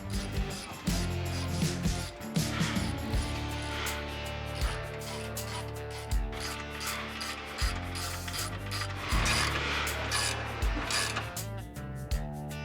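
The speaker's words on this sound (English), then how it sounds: "Now we can tighten everything down." Ratchet tightening bolts on a Tusk SubZero UTV snow plow mount for a Polaris Xpedition, with repeated close clicking pawl bursts in quick runs over a steady background hum, no talk.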